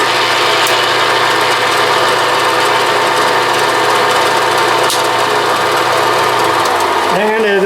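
A Bridgeport mill's power feed running after a clutch repair, with a loud, steady mechanical whine and hum that stays constant and then drops in pitch near the end, and a voice briefly heard over it.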